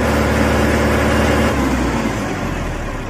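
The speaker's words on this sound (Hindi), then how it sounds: "आप देख सकते हैं इसका साउंड ट्रैक्टर का।" A Mahindra 47 HP tractor diesel engine runs close by, a loud steady low rumble with a shift in tone midway as the revs change, then settling, with no talking.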